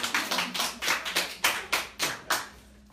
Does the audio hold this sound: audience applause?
yes